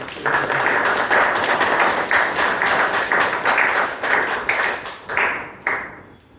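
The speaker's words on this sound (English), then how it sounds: "Please let us give a lot of applause to our president." Audience at a Toastmasters club meeting in Bangalore applauding the president: brisk, rhythmic clapping in repeated surges, close and fairly loud, dying away over the last second.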